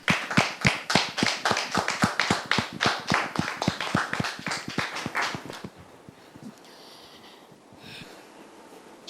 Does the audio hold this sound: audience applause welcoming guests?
yes